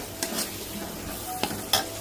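Onions sizzle steadily in leftover fish-frying oil in a pan. A spatula scrapes and stirs a few times, close and clear, with no talk.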